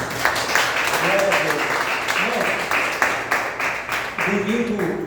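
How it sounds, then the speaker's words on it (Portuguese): A church congregation claps and applauds steadily indoors while a voice speaks over the noise. "Aplauda ao Senhor."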